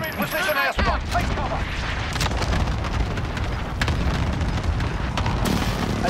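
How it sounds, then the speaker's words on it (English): Airstrike explosions in a Call of Duty video game, a sustained barrage of heavy booms and crackling blasts rumbling continuously at high loudness, with a voice briefly heard at the start. "Enemy position airstrike."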